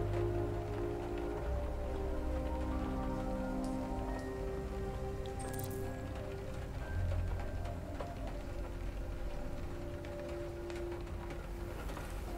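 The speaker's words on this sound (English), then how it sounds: "It's still raining?" Steady rain in the video game Detroit: Become Human patters and hisses continuously over a low ambient rumble, with no voices.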